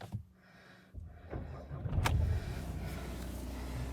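Skoda Octavia A7 2.0 DSG from 2020 starting up, a short starter whir followed by the engine catching and settling into a steady low idle, heard close from inside the car.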